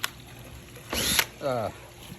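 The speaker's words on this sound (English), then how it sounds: "you drill the hole. Pretty easy. drill the hole." A power drill boring a hole in a plastic rain barrel, heard as two short whirring bursts, the second rising in pitch, fairly close, with a small click at the start.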